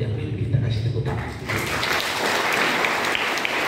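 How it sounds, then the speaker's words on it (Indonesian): Church congregation applauding at a police-themed sermon, a steady wash of clapping that swells and stays dense and loud throughout. "kasih tepuk tangan"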